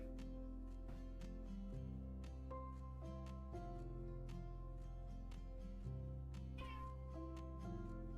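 Cats meow in a game, with repeated tonal cries layered over steady, stepping low tones; no one speaks.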